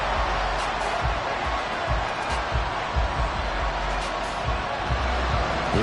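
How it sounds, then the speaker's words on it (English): Football stadium crowd at a Bengals vs Dolphins game, a steady wall of roaring noise and cheering that stays loud and continuous throughout, with no distinct pauses. "This crowd doing all they can."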